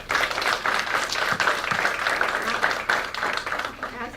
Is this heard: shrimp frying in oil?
no